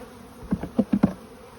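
Honey bees buzz around a hive brood frame in a weak, chilled colony, with a few short buzzes from single bees flying close past over a faint background hum, no voices.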